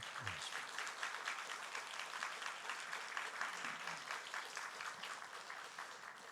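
A church congregation claps during a Sunday worship service, a steady continuous patter of many hands that stays even and fairly distant, with a brief low voice at the very start.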